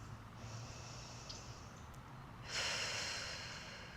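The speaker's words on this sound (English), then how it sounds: "Close your eyes, take a deep breath. Maybe another deep breath." One deep breath taken during a gentle yoga relaxation, slow and airy against a steady background hiss, growing fuller near the end as the air is drawn in.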